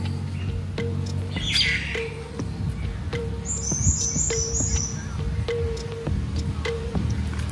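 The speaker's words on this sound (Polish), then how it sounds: "Ptaszki śpiewają." Birds chirp and tweet near a beach on Koh Samui, Thailand, with short squawks and a brighter trilling burst standing out over a soft, steady outdoor background.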